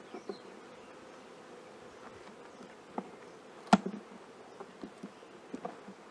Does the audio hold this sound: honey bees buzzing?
yes